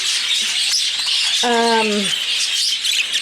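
A caged bird gives one clear, drawn-out chirp over a constant airy hiss from a room of birds and chicks, with softer cheeps around it.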